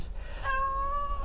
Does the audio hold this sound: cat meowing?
yes